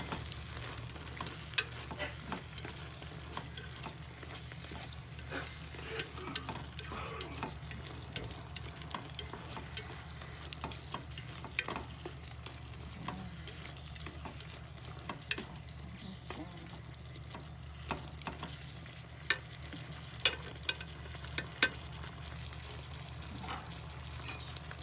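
Chicken and carrots frying in a pan, with a steady low sizzle and intermittent scraping clicks of stirring, fairly quiet and continuous with no talking.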